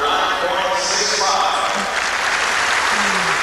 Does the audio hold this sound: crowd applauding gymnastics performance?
yes